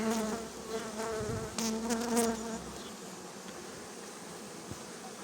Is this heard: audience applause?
no